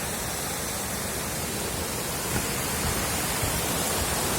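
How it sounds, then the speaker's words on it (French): Steady rush of a river with small cascades at Baume-les-Messieurs in the Jura, France, a dense unbroken hiss of flowing water, close and even throughout, without talk. "Là, le bruit que l'on entend, c'est la rivière"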